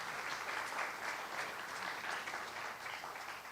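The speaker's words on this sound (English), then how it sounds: "You can clap for them coming up here." An audience at a public conversation about race in America claps steadily as guests come up to the stage, a dense, even wash of applause with no voices over it.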